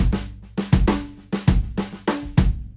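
A programmed drum loop bar plays kicks, snares and softer ghost notes in a steady groove, closing with a quick snare roll, loud and alone.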